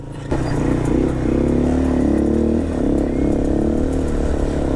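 A Honda Click scooter engine runs steadily on a rough mountain trail near Tanay, Rizal, holding a loud, continuous mid-pitched drone with slight revving swells throughout.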